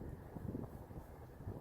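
Wind buffets a microphone outdoors on a walk, a dull, rumbling low roar that rises and falls over a second and a half, with no talking.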